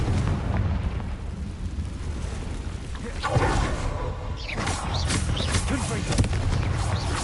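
A fiery Confringo spell blast in Hogwarts Legacy bursts out as a loud, rumbling explosion over dense combat noise, with a second roaring burst following soon after and voices heard through the fight.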